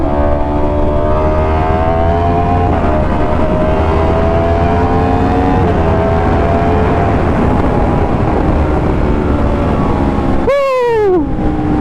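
A motorcycle engine drones steadily and loudly while being ridden, its pitch slowly rising and falling, then sweeping sharply near the end as it revs.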